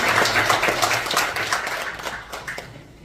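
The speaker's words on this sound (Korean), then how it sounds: "우리 장로님 가정을 위해서 한번 박수 한번 드릴까요?" A church congregation applauds during a Sunday morning worship service, with dense, fairly loud clapping that holds steady, then thins and fades toward the end.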